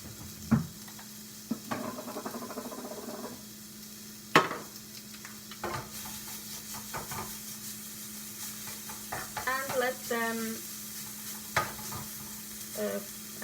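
Ribeye bits sizzling in a hot pan, a continuous close crackle broken by scraping stirs and occasional clinks of a utensil against the pan, with no voices.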